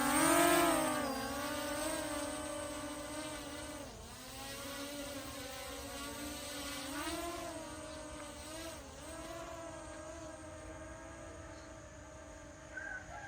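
Lyzrc L600 Pro Max GPS camera drone flying, a continuous high-pitched buzzing whine from its rotors that rises and dips slightly in pitch, moderately loud and heard alone without talk.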